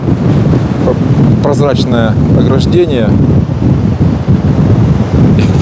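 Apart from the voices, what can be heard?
strong wind on seaside cafe terrace, wind on microphone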